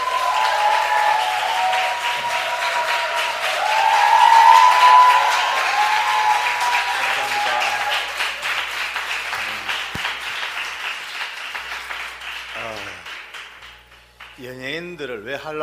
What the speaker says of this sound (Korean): 이래 박수치고 환호하니까 뿅 안 갈 수가 없네